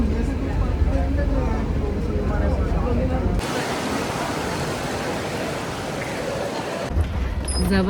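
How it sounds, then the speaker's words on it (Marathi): Heavy rain in Goa pours down as a dense, steady broadband hiss, fairly close and loud, with shifts in texture partway through. "जबरदस्त पावसाने स्वागत झालेलं आहे गोव्यात."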